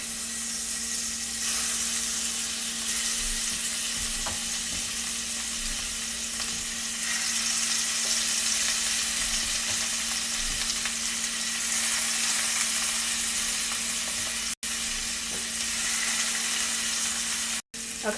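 Shrimp frying in a pan for ramen, a loud, continuous close-up sizzle with crackling spatter that holds steady throughout, broken by two brief dropouts near the end.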